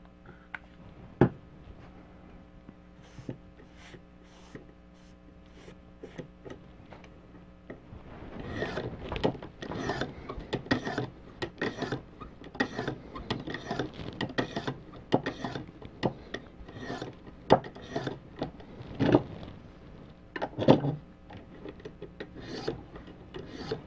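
A knife edge stroked against a 1200 grit stone on a ViperSharp sharpener, quiet at first, then a long series of light, close rasping passes in an uneven back-and-forth rhythm.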